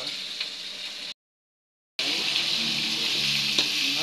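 Bitter gourd and pork stir-frying in a pan, a loud close sizzle running continuously except for a brief silent gap, with faint scraping of stirring underneath.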